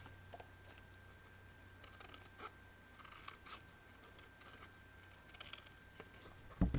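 Scissors cut through cardstock in soft, close snips that come in short bursts over a quiet room hum, ending with a louder knock.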